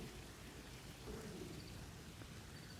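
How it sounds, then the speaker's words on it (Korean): Quiet, steady rain hisses across the clip in the desert town of Merzouga, Morocco, with a low rumble of thunder underneath, faint and distant, no voices. "천둥번개 계속 치고 지금 그러고 있어요"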